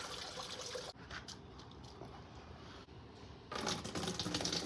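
Water is flushed in reverse through the heater core of a Mitsubishi Pajero Montero and comes out mucky. It makes a quiet, continuous trickling and splashing with brief dips, then swells louder near the end.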